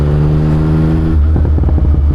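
A Yamaha MT-09 motorcycle engine runs at a loud, steady, close-up drone, then breaks into a series of quick, throaty revs that pulse and rumble through the second half.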